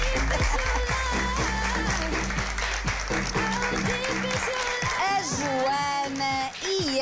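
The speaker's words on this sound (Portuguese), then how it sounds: "Uma salva de palmas" A studio audience applauds at a televised reality dating show, dense clapping running throughout beneath loud music and voices.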